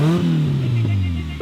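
A smoking, run-down $100 mystery car's engine bangs on a two-step rev limiter, a loud, close, steady droning roar held at one pitch with a couple of sharp pops.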